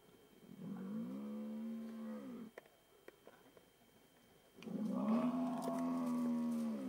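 A Cape buffalo in Limpopo gives two long, deep moaning lows, fairly close, with a quiet gap and a few faint clicks between them.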